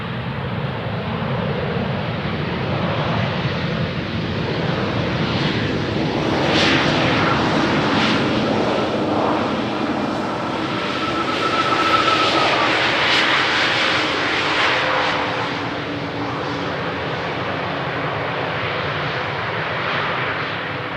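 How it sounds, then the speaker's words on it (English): An Embraer E190 jet landing at Amsterdam Schiphol's runway 18R, a sustained loud engine roar with whining turbine tones that swells and fades over about twenty seconds, with no talk. "So that was the first of the 2 consecutive Embraer E190s"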